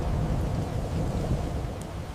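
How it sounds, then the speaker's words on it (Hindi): Low, heavy thunder rumbles steadily in the rain as lightning strikes a nearby tree, with a dense wash of rainfall and no clear single crack. "एक जोर की गरज के साथ बिजली पास के पेड़ पर गिर गई।"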